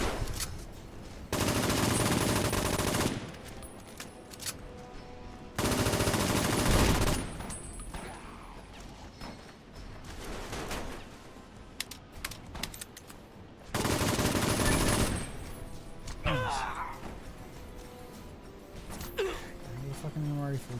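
Bursts of rapid automatic gunfire in Fallout: New Vegas, three long loud volleys separated by quieter stretches with game sounds and someone talking over the action.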